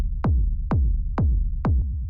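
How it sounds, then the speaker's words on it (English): A standard techno kick drum hits four times in an even, steady beat, each a punchy thump with a quick pitch drop and short low tail, loud and isolated with no other sounds. "this is like a pretty standard kind of techno kick"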